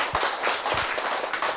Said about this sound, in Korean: 그렇지, 박수.